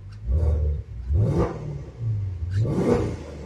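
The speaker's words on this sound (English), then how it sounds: "The iconic Maserati exhaust note." A 2019 Maserati Levante GTS engine revving hard several times in succession with the sport exhaust active, a deep, throaty exhaust rising and falling, close and loud with no talking.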